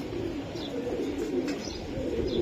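Racing pigeons coo in a low, continuous rumble, several birds overlapping, with a few faint higher chirps on top; the flock sounds close and steady throughout, with no talking.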